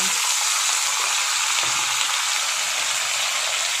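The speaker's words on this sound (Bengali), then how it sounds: "এখানে নিয়েছি কাঁচা লঙ্কা রসুন কালো জিরে এটা একটু বেশি পরিমাণে নিতে হবে নিয়ে এটা গরম সর্ষের তেলের মধ্যে দিয়ে দেবো" Green chillies, garlic and nigella seeds sizzle in hot mustard oil, a steady, dense crackle that stays close and loud throughout, with no voices.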